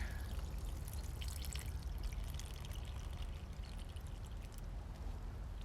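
Water pouring from a bucket onto orange Oso geraniums in a Palm Springs garden, a continuous close splashing and trickling with a low rumble beneath, no voices.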